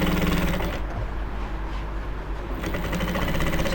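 A sewing machine runs steadily, stitching an Ankara top, its loud continuous mechanical whir filling the whole stretch with only a slight dip in the middle.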